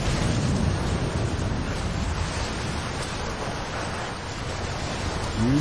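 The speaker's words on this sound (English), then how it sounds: "This wind is crazy." Strong, steady wind roars outdoors on an exposed hiking route, buffeting the microphone with continuous broadband rushing that stays loud throughout, with no speech over it.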